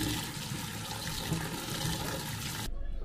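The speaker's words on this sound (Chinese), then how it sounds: "我先把摘好的豆角清洗一下" Picked green beans rinsed under running tap water, giving a steady, fairly close rush of water that continues for under three seconds before cutting off abruptly.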